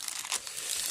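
Thin plastic film wrapped around a Xiaomi Mi Max 2 phone crinkles and tears as it is peeled off, a brief, close, soft rustle.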